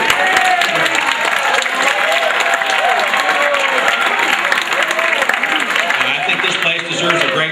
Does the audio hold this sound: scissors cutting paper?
no